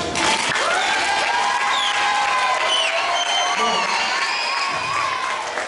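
Audience at an outdoor afternoon event breaking into loud sustained applause and cheering, dense clapping with shouts and whistles throughout.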